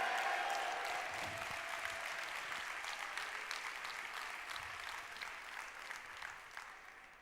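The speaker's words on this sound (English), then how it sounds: "Can I get some claps and a yeah," A conference audience at a blockchain live event claps in a sustained, even wash of applause that slowly fades over several seconds, with no distinct cheering standing out.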